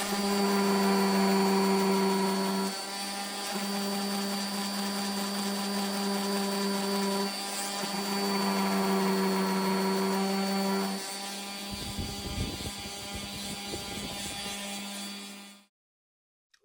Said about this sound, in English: Quick sanding, and these things look pretty good.